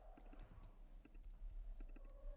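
A computer keyboard clicks in quick, uneven keystrokes, quiet and close, with no talking.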